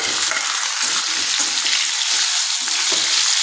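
Raw mango slices sautéed in a pan over low heat, giving a steady, close, bright sizzle with soft stirring scrapes throughout and no voices.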